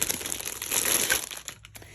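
A carry case being opened with crinkling, rustling handling noises, close and continuous for a couple of seconds.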